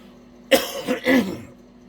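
A man clears his throat during a lecture, one harsh rasping burst followed by a second longer gravelly rumble, close and fairly loud, with no speech around it.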